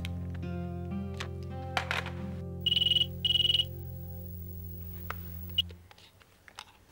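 A phone ringtone in a Hindi TV serial rings in two short, bright electronic bursts, each lasting under half a second with a brief gap between them, over steady background music and room tone.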